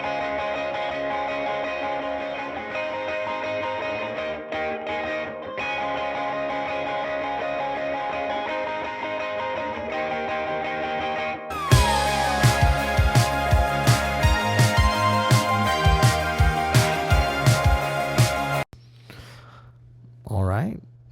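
Added electric guitar layer in an indie pop/rock song chorus, playing a flourish of bright high notes over the full band mix with steady drum hits, loud and close, then cutting off near the end.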